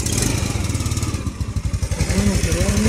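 A Honda WS150 motorcycle engine, running after a service with a new spark plug, oil and fuel filter, chugs in a fast, close, pulsing idle that stays loud and steady, with a brief voice-like tone near the end.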